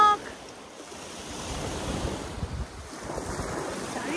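Ocean waves of the Bay of Bengal off Havelock Island, a steady wash of surf with heavy wind buffeting the microphone, moderately loud and continuous.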